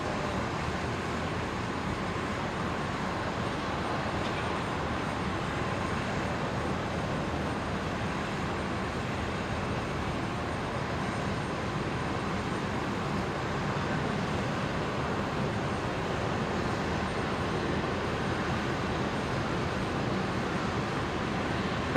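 A Qantas Boeing 737 rolls for takeoff on runway 01 right at Brisbane airport, a distant, even, broadband engine rumble holding steady throughout with no clear peak.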